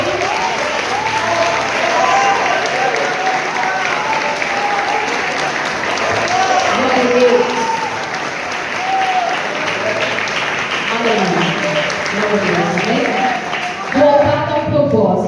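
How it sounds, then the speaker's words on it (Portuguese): A church congregation applauds at a 25th anniversary service, steady dense clapping filling the space for the whole stretch, with voices and cheers mixed in over it. "aplauda a Ele"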